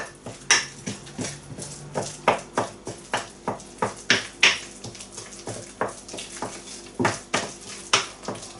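Dry ingredients for vegan almond flour banana bread being mixed in a bowl, with repeated sharp utensil taps and scrapes against the bowl in an irregular rhythm, close and fairly clear, no talking.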